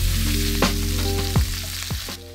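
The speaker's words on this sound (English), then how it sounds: "we want to sear this on all sides until nice and caramelized" Oxtail sears in a hot pan, a close, loud continuous sizzle with a few sharp crackles and pops, and steady low tonal hum beneath, no talking.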